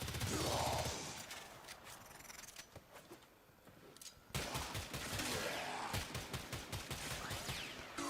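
Heavy weapon fire from the video game Warframe, a rapid run of loud, sharp shots with strong recoil, first in a brief burst and then as a dense stream of repeated blasts.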